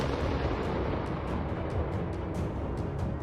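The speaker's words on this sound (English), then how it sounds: "As violent explosions leveled the house, Russian soldiers were unable to respond." Drone strike explosions level a house held by Russian soldiers in Ukraine, a dense, sustained roar of blasts and rumble with sharp repeated cracks on top, loud and continuous without speech.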